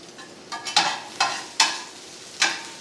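Ginger and green chili sautéing in a pan for Indian daal, heard as a few sharp scraping stirs and short sizzling bursts, four distinct strokes at a moderate, close level.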